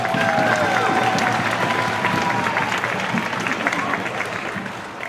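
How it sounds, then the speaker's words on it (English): Spring school concert audience applauds student soloists on trumpet, flute and clarinet, a full, steady round of crowd clapping with a few cheers that fades slightly near the end. "Give them another round of applause"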